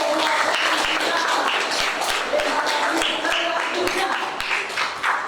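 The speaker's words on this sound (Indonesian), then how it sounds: "Oke, tepuk tangan dulu." Applause from a classroom audience after a group presentation, a dense, continuous patter of many hands lasting several seconds, fairly loud and close.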